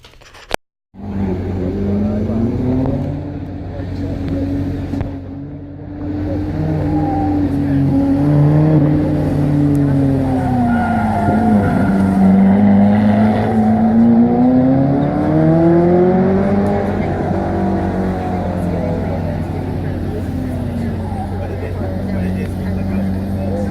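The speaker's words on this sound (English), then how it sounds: "now let's watch David Wilhelm master the Ferrari Americana." A Ferrari Americana race car drives on a race track, its engine holding a loud, sustained drone that rises and falls in pitch as it accelerates and eases through turns, heard close for over twenty seconds.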